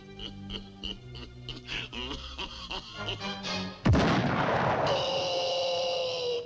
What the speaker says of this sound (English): I really do like all these cannon gags of Sam getting blasted in the face with the